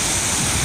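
The Cascade de Glandieu waterfall in Isère makes a brief burst of constant, rushing roar, loud and close, with no voices.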